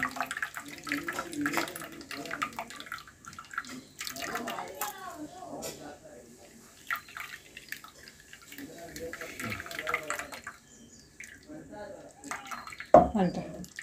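Water pours and splashes in uneven bursts while crabs are washed for a Malvani-style curry, with dripping and sloshing in the foreground and voices talking over much of it.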